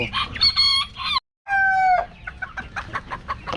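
A rooster crows twice up close, loud and harmonic, with a short gap between calls, then clucks softly several times.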